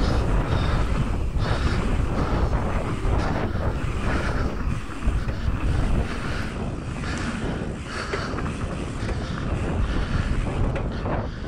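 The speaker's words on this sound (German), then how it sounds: "man hört am Wind, und ich habe meinen Windschutz drauf, dass hier kräftig Gegenwind ist" Strong headwind buffets a windscreened microphone while riding a mountain bike on an uphill, pedal-heavy bike park trail at St. Andreasberg, a loud continuous roar with gusty surges throughout.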